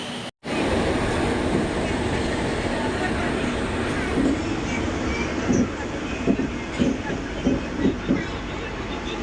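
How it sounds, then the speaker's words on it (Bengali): A train pulls into a station platform with a loud continuous rumble, and rhythmic clacks and thumps from the wheels build toward the end. "চলে এসেছে আমাদের ট্রেন"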